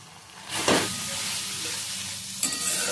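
Garlic, ginger, turmeric and chilli powder fry in oil with a continuous close sizzle, and a sharp stir or scrape early on and another near the end.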